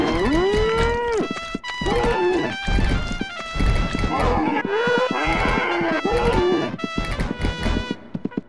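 Cartoonish cow moos from the video game Conker's Bad Fur Day, several long bellowing calls repeating over a busy game soundtrack with music and effects.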